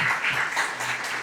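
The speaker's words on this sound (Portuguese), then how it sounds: "Aplauda bem forte o nome de Jesus" A church congregation breaks into applause during a worship service, a short burst of dense clapping heard at moderate distance.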